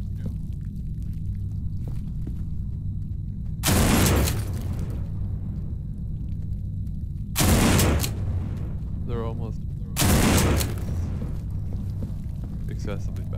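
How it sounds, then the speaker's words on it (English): Three loud, sharp gunshot blasts ring out in the zombie survival game No More Room in Hell, spaced several seconds apart, each with a short booming tail, between stretches of a low game hum and a brief spoken remark. "I hope the gunshots aren't too loud."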